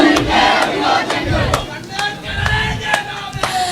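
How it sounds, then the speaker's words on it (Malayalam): A crowd applauds at a Kerala cooperative-sector event honoring AICC general secretary KC Venugopal, with dense, steady clapping and occasional louder individual claps over a lively hall murmur. "നിറഞ്ഞ കയ്യടി"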